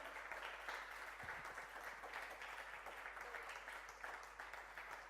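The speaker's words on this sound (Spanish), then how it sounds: "¿Cuánto le dan un aplauso al Señor?" A church congregation claps in steady, even applause that sounds fairly faint and distant, a continuous wash of many hands with no voices standing out.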